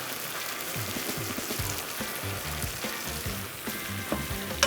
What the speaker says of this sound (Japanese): 沸騰してますから、ここで火力を弱めまして15分ほど炊いていきます。